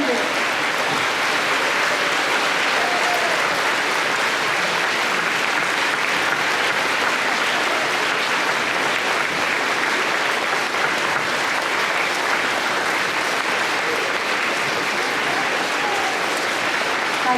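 A school audience of students and guests gives veterans a standing ovation at a middle school Veterans Day program, a dense, loud, sustained wash of clapping that fills the room without letup for the whole stretch.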